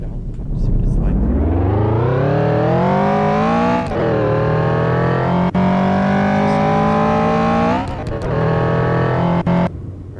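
A car driven in the Roblox video game, its engine revving up steadily through rising gears with brief shifts and a sustained loud drone, close and continuous with no talking over it.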